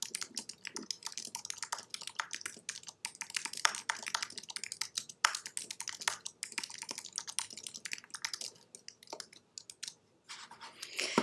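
Rapid, irregular keystrokes on a computer keyboard clatter steadily at close range with brief pauses, no voices present.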